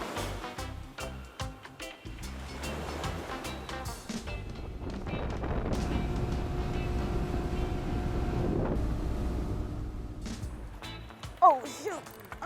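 A boat engine runs steadily close by as the boat drives inshore onto a sandbar, with wind buffeting the microphone and people talking over it, the drone swelling in the middle before fading.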